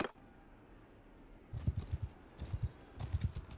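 Horse hooves clip-clop in Mount & Blade II Bannerlord, coming in three short rhythmic bursts of hoofbeats after a quiet opening, moderately close and clear, with no talking.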